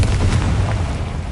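A Confringo blasting spell goes off in Hogwarts Legacy, a loud, deep boom with a rumbling low end that carries through the whole second with no fade, alone and without talk.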